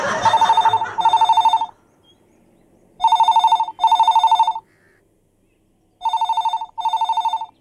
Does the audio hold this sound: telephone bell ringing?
yes